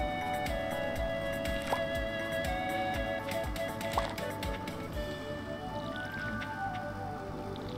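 A watering can pours over crops in Stardew Valley, making repeated soft splashy bursts at a steady pace under light game music tones.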